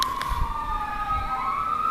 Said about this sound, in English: I also screwed up trying to record when a siren goes by.